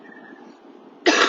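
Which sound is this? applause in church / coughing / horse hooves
coughing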